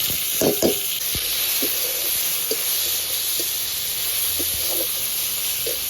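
Tomatoes and green chillies sizzle in hot oil over onion, ginger and garlic already fried down, a steady broad hiss with a few soft stirring clicks and spatula knocks near the start, close and alone.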